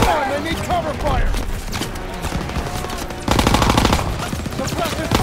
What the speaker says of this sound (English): Suppressive fire! Grenade! Keep firing!